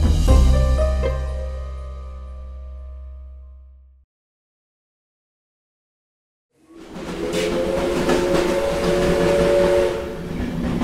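Railway sound effects for a radio drama: a long train horn rings out and fades away, then after a few seconds of silence a train rumbles along the tracks with a loud, steady clatter.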